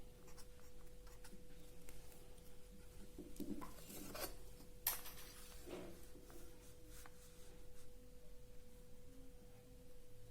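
Chalk or marker scratching on a board while a maths exercise is worked through, a few short bursts of strokes standing out over a steady faint room hum.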